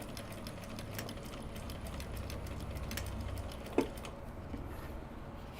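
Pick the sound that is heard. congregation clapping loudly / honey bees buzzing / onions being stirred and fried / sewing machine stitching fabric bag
sewing machine stitching fabric bag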